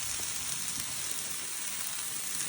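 Two diced onions, corn and bacon sizzle on a Blackstone griddle, a steady, even hiss of frying with no talking.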